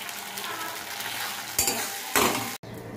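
Paneer pizza filling frying in a pan, a steady close sizzle with stirring scrapes and a couple of louder bursts as the mixture is turned.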